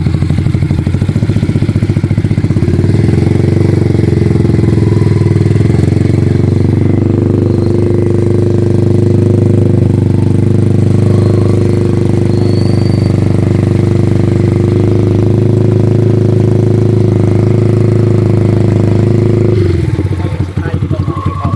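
A stock-engine Yamaha Sniper 155 motorcycle with its standard muffler and pipe idles, then revs to a loud, sustained high drone before dropping back to idle near the end.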